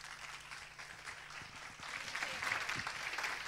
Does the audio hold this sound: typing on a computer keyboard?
no